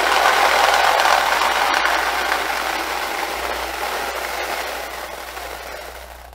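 A dense, steady rattling rush of small plastic pellets pouring into a bag, loud and close, gradually tapering off.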